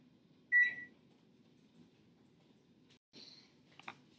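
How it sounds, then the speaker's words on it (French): Oven control panel beeping while being set to preheat to 400 Fahrenheit: a short, clear electronic beep, then quieter faint tones and clicks over a low hum in a quiet kitchen. "on va réchauffer le four à 400 Fahrenheit"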